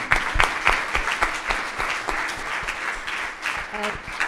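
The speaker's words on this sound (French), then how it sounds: "Je pense qu'on peut applaudir." An audience at a crowdfunding presentation breaks into applause, with sharp, uneven claps over a softer crowd wash and a few voices mixed in.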